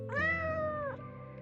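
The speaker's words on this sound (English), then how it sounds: "Your train of thought is interrupted by a loud meowing from somewhere near the back wall." A single loud, drawn-out cat meow from a cat in the Choices: Stories You Play game, All of Us His Story, rising then holding steady for about a second over a quiet low background hum.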